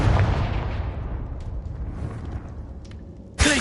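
A Confringo fire spell explodes in the video game Hogwarts Legacy: a loud, booming blast that rumbles and fades over a few seconds, followed by a sharp new burst at the end.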